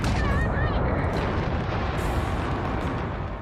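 Spaceship combat in the Starfield video game, with a dense, continuous roar of explosions and weapon fire that stays loud and near throughout, with a few faint whistling tones near the start.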